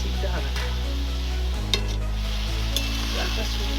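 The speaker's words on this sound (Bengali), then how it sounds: "তুলে নিয়ে এবার একটু নেড়ে দিচ্ছি" Moong dal and bottle gourd cook in a pan under a steady low bubbling sizzle, with a few stirring scrapes against the pan and a low background hum.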